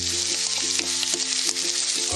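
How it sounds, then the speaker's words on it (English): Onion and garlic sauté in oil in a pan for bistek Tagalog, giving a close, continuous sizzle with a few light crackles and stirring taps over about two seconds. "now with the remainder of the oil using the same pan, we're going to saute our onion and garlic."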